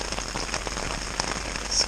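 Heavy rain falls hard and steady on a surface during a bikepacking camp in Western Australia, a dense continuous patter with no voices.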